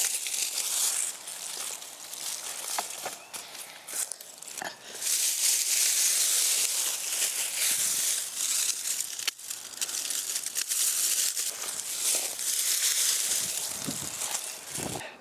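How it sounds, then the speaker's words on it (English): Close crunchy snips and rustling foliage as salvia and verbena stems are cut back in a garden, several crisp clips amid crinkling leaf noise, with no talk. "I'm going to snip around the salvia so that its top branches are clear"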